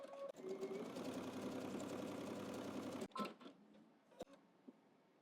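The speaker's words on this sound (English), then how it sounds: "now we're going to do one more stitch, a 1/4 inch away from that first one" A sewing machine runs a continuous line of top stitching on workout shorts, a rapid close whirring patter that stops abruptly, followed by a few faint clicks and handling sounds.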